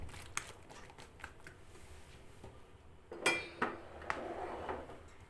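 A walnut kete mixture is stirred in a bowl: quiet, close clinks and scrapes of a utensil against the bowl, sparse at first, then a brief flurry of louder knocks near the end.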